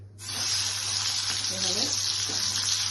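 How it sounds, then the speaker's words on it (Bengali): Prawns and chicken frying together in a pan give a steady, loud hiss that runs unbroken from just after the start, with a few faint clinks under it. "চিংড়ি মাছ আর চিকেনটাকে একসাথে ফ্রাই করে নেব"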